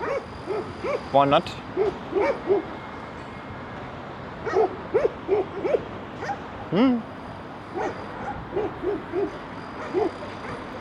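Several dogs barking on a street in a Soviet-era residential area of Tbilisi, Georgia, in short scattered bursts with yips and a whimper, some near and some farther off, with a brief voice speaking.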